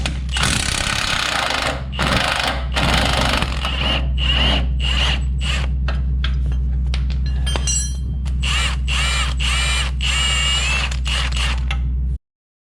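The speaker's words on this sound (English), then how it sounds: "this bolt here we're gonna undo. On the back side, you gotta hold it with a 15/16 wrench again" A wrench works a bolt loose on the CV axle of a 2006-2010 Ford Explorer, with loud rattling, hammering bursts and creaking metal over a steady low hum, close up and without talk.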